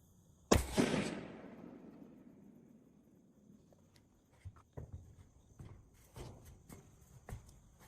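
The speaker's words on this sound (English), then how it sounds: "Let's load it again. We'll shoot one more time," A single sharp rifle shot fired through a scope at a small target cracks loudly and close, its echo trailing off over a few seconds, followed by faint scattered clicks and handling noises.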